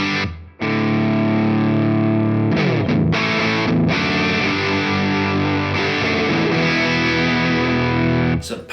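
An overdriven electric guitar plays through a Hamstead Artist 60+RT amp set to its 20-watt low-power mode. Thick, distorted chords ring out and sustain, then break off with a short gap and resume near the end.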